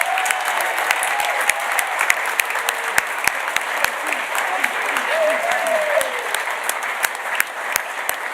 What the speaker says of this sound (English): please, a huge round of applause to the organising team